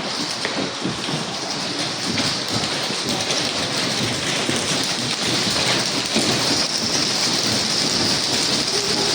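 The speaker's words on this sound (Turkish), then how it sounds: "Yağmur başladı biraz." Steady, dense rain hissing outdoors on a city street in Ankara, loud and continuous, with a faint low rumble underneath and no voices.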